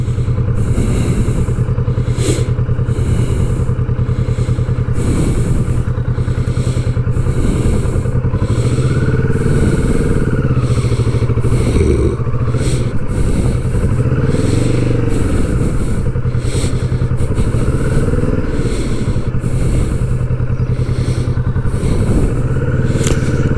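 A Kawasaki Vulcan S motorcycle being ridden and shifted through its gears, its engine a loud, continuous rumble close by with shifting pitch and rushing wind noise throughout.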